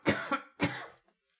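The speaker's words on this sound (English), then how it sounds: "Pardon me, got a cough." Two sharp, close coughs from one person in quick succession, each a short rough burst followed by a brief pause, with no other sound around them.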